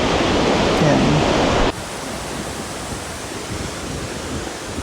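Bomod-ok Falls in Sagada roars as a dense, steady wash of falling water, loud and close at first, then dropping abruptly to a softer, more distant rush.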